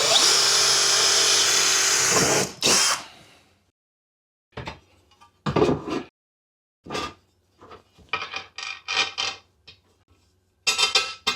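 A power drill whirs loudly for about two seconds, then stops; scattered clicks, clanks and handling noises of tools follow in short bursts.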